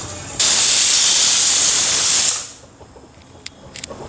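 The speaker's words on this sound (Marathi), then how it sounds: "3 शिट्ट्या झालेल्या आहे कुकरच्या" A pressure cooker on the stove releases steam in a loud, sharp hiss lasting about two seconds, then tapers off, leaving quiet kitchen background with a few faint clicks.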